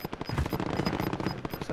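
Rapid automatic gunfire in a battle-royale shooter game, dense bursts of shots running continuously and loud, with faint voice chat mixed underneath.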